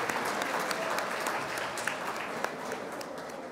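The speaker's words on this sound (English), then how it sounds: "please give a round of applause for this anonymous donor" Audience applause at a Macedonian Independence Day celebration, fairly quiet steady clapping from a room of guests lasting a few seconds with scattered sharper claps.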